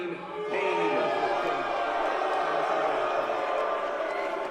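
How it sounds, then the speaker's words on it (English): A boxing arena crowd applauds and cheers during a professional bout, a broad wash of clapping and shouts from a large audience, held steady throughout. "the disbelieving audience had even started to applaud him"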